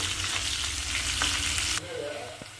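Sliced onion frying in hot oil for sambar, a loud close crackling sizzle with stirring knocks, abruptly dropping to a softer hiss partway through.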